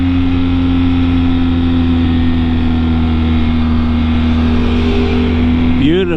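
An Aprilia V4 motorcycle engine runs with a steady, loud, droning tone that holds close throughout, then rises in a quick rev at the very end.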